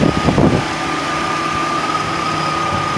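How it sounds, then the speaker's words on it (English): A car engine idles steadily up close after a repair for a rattling, clicking noise, with a constant hum and faint mechanical whine, a few rougher bursts at the start. "Now we could take a listen at the engine"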